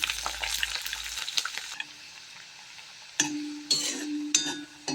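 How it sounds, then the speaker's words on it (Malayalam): Ginger, garlic and curry leaves frying in a pan for a homemade Kerala ambazhanga (hog plum) pickle, a steady close sizzle with stirring scrapes and a few louder bursts toward the end, no talk. "നമ്മൾ ഇഞ്ചിയും വെളുത്തുള്ളിയും കറിവേപ്പിലയും നല്ല പങ്ക് മുരിഞ്ഞ് വന്നിട്ടാകുമ്പോൾ"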